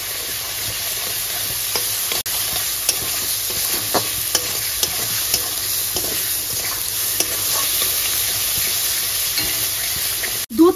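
A spice paste with turmeric fries in a pan over a high gas flame, a constant close sizzle punctuated by light clicks and scrapes of stirring, ending in a sharp knock.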